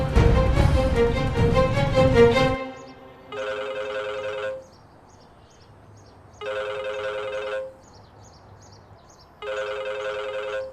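A telephone rings in repeated electronic bursts, three clear rings separated by pauses, loud and near, following a stretch of dramatic music at the start.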